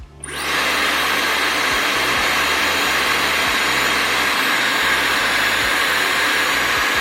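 A Revlon One Step hair dryer blows steadily on a heat setting with a medium nozzle attached, a loud, close, continuous rushing whoosh that starts abruptly and holds without pause.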